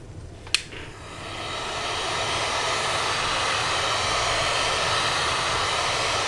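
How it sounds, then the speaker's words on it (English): Steady wind rushes and roars outdoors, building after a brief sharp click at the start and holding as a broad, even whoosh with no voices. "Can you guys hear the wind?"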